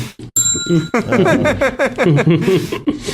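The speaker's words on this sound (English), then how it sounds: "Where's the bell, Matt?" A small bell gives one bright, ringing ding in a podcast studio, its tone hanging briefly before people laugh and talk over it.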